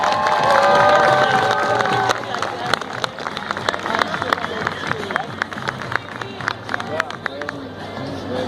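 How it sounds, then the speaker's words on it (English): A crowd at a marine life show in West Edmonton Mall cheers loudly at first, then settles into scattered clapping and excited shouts, with a whistle-like tone early and a busy, reverberant hall throughout. "let's send these ladies to the back with another great big round of applause."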